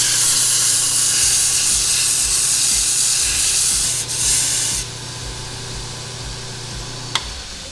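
Metal is ground on a belt grinder fitted with a Norton Blaze ceramic 80-grit belt, giving a loud, steady hissing rasp over a motor hum that drops off abruptly partway through and then runs on more quietly.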